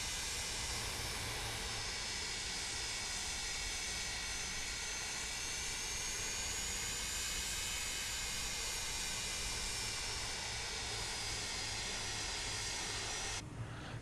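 Steady roar of JT jet engines on a charter airliner climbing out of Buffalo with a hockey team aboard, a loud continuous whine and rumble held at the same level throughout, with no talking.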